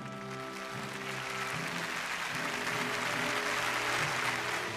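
A studio audience on a televised stage show gives sustained applause to welcome a speaker, a steady dense clapping over upbeat music that holds throughout.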